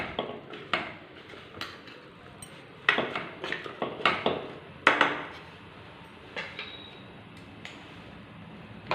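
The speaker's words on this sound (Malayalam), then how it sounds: "നന്നായിട്ട് ഇതൊന്ന് മിക്സ് ചെയ്ത് കൊടുക്കാം" Ash gourd pieces being mixed in a pot for olan, a Kerala sadya dish, giving scattered light knocks and clinks of a spoon against the vessel, irregular and close, with no talking.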